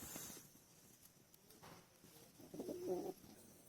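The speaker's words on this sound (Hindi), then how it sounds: "ये जी भाई के माशाल्लाह परिंदे हैं जी" Pet pigeons in a loft give soft, low cooing calls, faint and somewhat distant, with a fuller coo near the end over light background rustle.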